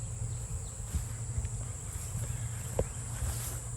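Honeybees buzz faintly outdoors in a bee yard as they clean honey supers, a soft steady hum with individual insects drifting past now and then.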